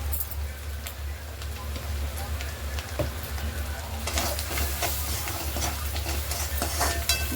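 Egg seasoned with salt, chili powder and garam masala sizzles steadily in a pan as it is fried and stirred for fried rice, with scraping stir sounds rising in the second half.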